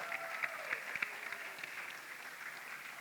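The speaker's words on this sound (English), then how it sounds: "Another round of applause for Miss Levy." Graduation audience applauding a teacher at a school ceremony, a soft, distant wash of clapping heard from far back in the hall, fairly faint and even, with no voices over it.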